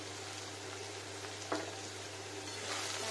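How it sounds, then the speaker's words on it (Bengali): Salted okra frying in an open pan, a soft, steady sizzle with a single light tap of a spatula and no voices. "আবার ফ্রাই করে নেব।"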